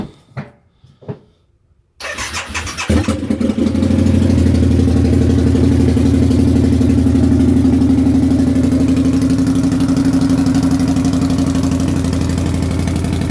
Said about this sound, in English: it'll be pretty hard to hear me now with the bike idling, but cold start up, idle